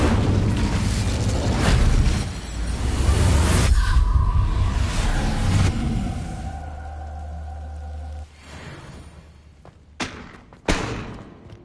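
In a Harry Potter video game, the Incendio fire spell goes off as a heavy, booming blast with a whooshing rush of flame, sustained for several seconds before fading into quieter thuds and a couple of sharp pops.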